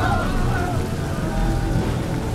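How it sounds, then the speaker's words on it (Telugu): Rain pours steadily and loudly on the ground in a continuous dense hiss with a low rumble beneath, alone and unbroken throughout. "ఆకాశం ఎర్రగా మారి ఉన్నట్టుండి రక్తవర్షం కురిసింది"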